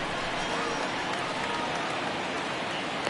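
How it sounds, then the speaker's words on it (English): Heavy rain pours steadily over a baseball stadium in a video game, a dense, continuous hiss of drops that stays even and loud throughout with no clear break. "It's raining cats and dogs out there."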